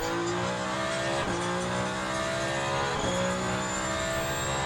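Race car engine in Le Mans Ultimate droning steadily at high revs through a lap, with two quick dips and pickups as it shifts gears, loud and continuous with no talk.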